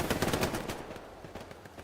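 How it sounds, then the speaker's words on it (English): Rapid bursts of machine-gun hipfire from an MG in the World War II shooter Hell Let Loose, a fast rattling stream of shots loud at first then trailing into scattered, quieter fire amid battlefield noise. "Oh, MG from the hip."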